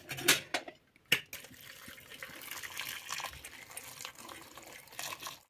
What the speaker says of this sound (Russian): Возвращаем мясо обратно и заливаем горячей водой.